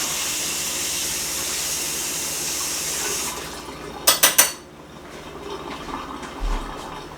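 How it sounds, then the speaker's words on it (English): Tap water runs steadily into a kitchen sink while a spoon is rinsed, a close continuous gush. It stops with a few sharp clanks of metal, followed by quieter handling sounds. "I am going to rinse my spoon off."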